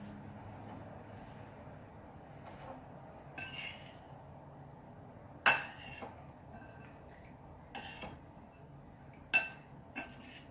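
A spoon mixes buckwheat salad with tomatoes, cucumbers and shallots in a bowl, making sparse clinks and scrapes against the dish over a quiet background.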